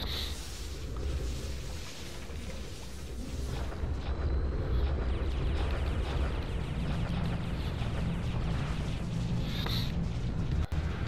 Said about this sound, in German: Da explodiert doch schon das Gas.